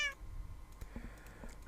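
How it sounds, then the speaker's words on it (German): Cats meowing in the Minecraft video game, a few short game meows over faint clicking, with no talk. "da unten hat's ganz viele Katzen, Mann"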